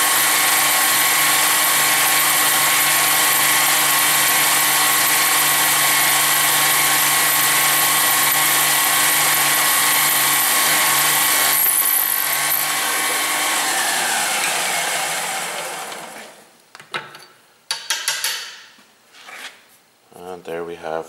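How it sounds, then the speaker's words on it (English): A drill bores a hole through a piece of metal with a loud, steady, high whine that holds for about fifteen seconds and then winds down, followed by a few scraping knocks and a voice speaking. "There we have our hole drilled in the piece."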